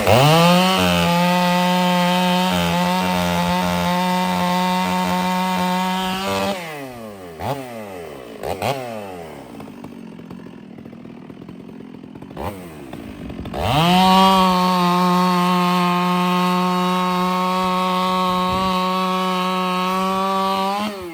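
Freshly sharpened chainsaw cutting through wood, running loud and steady for several seconds, dropping to brief revs and a near-quiet pause, then roaring back into another sustained cut.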